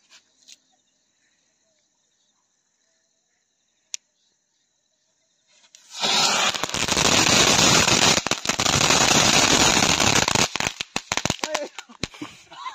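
Chitput firecrackers held in hand burst into a loud, dense, fizzing crackle after several seconds of near silence and a single faint click. The crackle runs continuously for about six seconds and then breaks into scattered pops.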